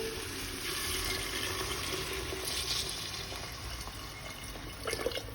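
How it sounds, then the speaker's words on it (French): Water is poured into a pot over caramelized onions and chickpeas, a continuous soft rushing and splashing that stays fairly quiet and even, easing slightly toward the end. "Je vais y rajouter donc les pois chiches. Et je vais recouvrir le tout d'eau."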